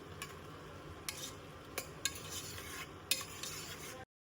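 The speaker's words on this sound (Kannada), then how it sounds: "ಇದು ಚೆನ್ನಾಗಿ ಮಶ್ರೂಮ್ ಎಲ್ಲ ಆಯಿಲ್ ಅಲ್ಲಿ ಚೆನ್ನಾಗಿ ಫ್ರೈ ಆಗಬೇಕು ನೋಡಿ" Mushrooms frying in oil in a pan, stirred with a utensil, giving a steady low sizzle broken by a few sharp scrapes and clinks of metal against the pan.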